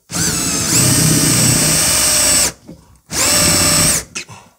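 A loud power drill whirs while boring into a furniture panel, in two sustained bursts separated by a short pause, close to the listener, with a few faint clicks at the end.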